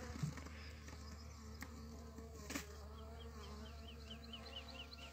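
Bees swarm and buzz inside a hive after being poisoned, one of many hives in an apiary, making a dense, steady, close drone with no voices.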